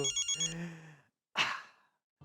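Telephone ringtone in an indoor sitcom scene, a short repeating electronic melody with pulsed tones for about a second, then a breathy vocal sound after a pause.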